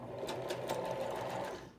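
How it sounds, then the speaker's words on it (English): A sewing machine runs a steady, close whirring burst of straight stitches through the fabric of a homemade face mask, holding even for almost two seconds before trailing off. "So I sewed a couple stitches."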